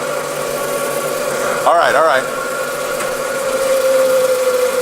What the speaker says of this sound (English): Now we gotta wait for the motor to slow down again.